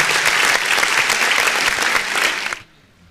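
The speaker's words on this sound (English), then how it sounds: "please put your hands together as I introduce to you Professor A. Akisolure" Students at a university freshers' orientation programme applaud loudly and steadily for about two and a half seconds, then the clapping stops abruptly and the room falls nearly silent.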